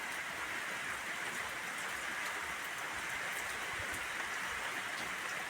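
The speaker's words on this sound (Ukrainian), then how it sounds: "Ну, дощ." Rain falls steadily outdoors, a soft, even hiss of drops on surfaces that continues without pause, faint and distant, with no voices heard.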